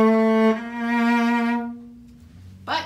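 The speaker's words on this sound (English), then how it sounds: "With a bow, it sounds like this." Cello bowed in a sustained low note rich in harmonics, loud and close, fading out near the end before a brief rustle.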